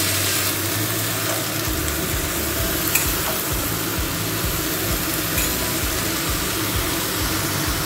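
Spinach greens with their stalks, mustard and plenty of chilli cooking in a pan covered with a plate: a steady, even sizzle and hiss running throughout, with faint scraping ticks now and then.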